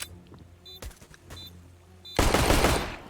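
Gunfire in Counter-Strike: Global Offensive during a competitive match: sharp isolated shots and short bursts ring out, then a dense, loud rattling volley erupts near the end and continues.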